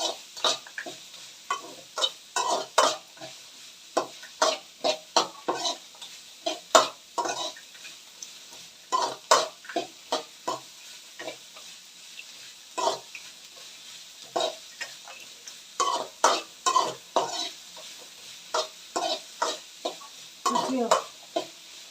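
Tempering for a palak and potato gravy stirred and fried in a pan, repeated rhythmic scraping strokes of a spoon against metal over a soft sizzle.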